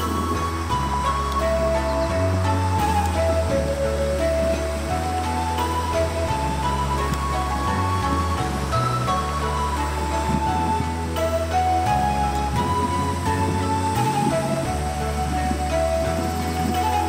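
A clear river runs beneath a bridge beside a thatched-roof village in Miyama, Kyoto, giving off a continuous, even rush of flowing water.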